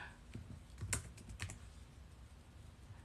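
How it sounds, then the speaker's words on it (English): Quiet typing on a computer keyboard, a sparse run of soft clicks with a few sharper taps in the middle, close and alone with no talk. "So Kat, I'm just finishing up typing up her information."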